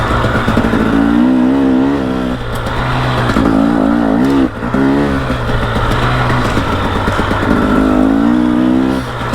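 A two-stroke 300 XCW dirt bike engine revs repeatedly in close, loud bursts, climbing and falling in pitch over a steady rumbling idle.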